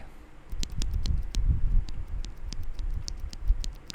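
A stock mechanical keyboard switch with its lube cleaned off clacks repeatedly at an uneven pace, soft and close, with a low muffled rumble underneath.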